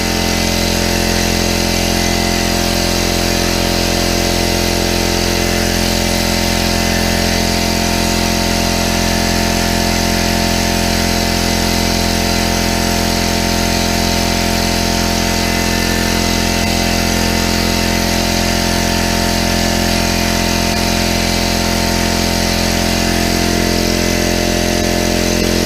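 A Harbor Freight air compressor runs continuously while filling its tank, producing a loud, steady motor drone with a constant hum and no pauses or speech.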